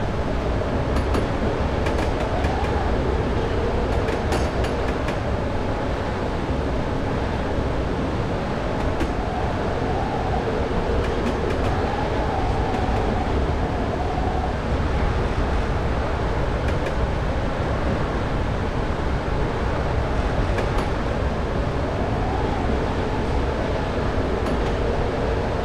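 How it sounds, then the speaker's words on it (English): A train coasts with the power idled in Train Simulator 2015 on the Manchester London Road to Sheffield Victoria route, a steady rumbling roll with rhythmic wheel clatter and occasional clicks, continuous and unbroken throughout. "I idled the power to allow the train to coast"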